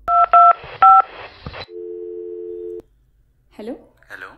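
A telephone number is dialed with several quick keypad tones, then a sustained ringing tone follows before a voice begins speaking.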